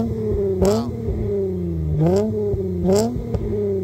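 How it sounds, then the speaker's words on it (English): An 8th gen Honda Accord V6 coupe with a six-speed manual and aftermarket exhaust revs three times from idle, each sharp rise and fall close and loud over a steady idle rumble. "I'll rev it a little for you. Yes, let me get a nice rev."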